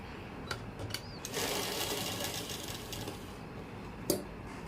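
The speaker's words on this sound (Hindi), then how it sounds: "इसको ऐसे पलटेंगे और पलट कर एक सिलाई और लगा लेंगे" A sewing machine stitching an Afghani salwar pocket: a close, continuous mechanical whirr of rapid needle strokes running for a few seconds, framed by small clicks and a sharp knock near the end.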